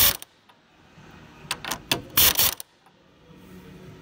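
A tool wound on the strut of a Mitsubishi Outlander ZG during a 40mm lift kit install, giving sparse mechanical clicks and a cluster of sharp ratcheting bursts near the middle, close and moderately loud with no talk.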